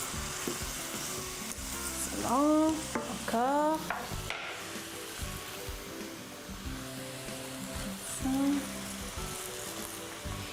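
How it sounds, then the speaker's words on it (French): Wet spinach leaves sizzle and hiss steadily as they wilt in a hot pan while being stirred, with a person speaking briefly over the frying. "c'est très facile de faire faner les feuilles d'épinards"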